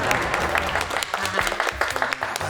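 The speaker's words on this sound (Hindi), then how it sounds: "दोबारा तालियां।" Studio audience at a Pakistani political talk show applauds, a dense steady round of clapping with a voice briefly talking over it.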